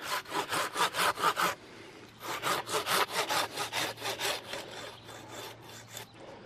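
A hand pruning saw cuts through a live tree branch in quick rhythmic back-and-forth strokes, a short pause, then another steady run of rasping strokes nearby.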